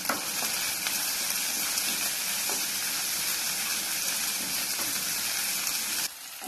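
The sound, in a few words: small onions sautéing with salt in a pan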